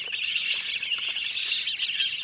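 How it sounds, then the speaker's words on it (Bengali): Purple swamphen chicks, kept and raised at home like country chickens, keep up a steady, high, thin chirping chorus at close range without pause. "এগুলো হলো সব কালিম পাখির বাচ্চা।"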